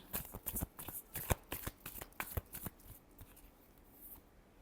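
Tarot cards shuffled in quick, crisp riffling bursts with sharp slaps, fairly close, dense at first and thinning out toward the end, with no talk.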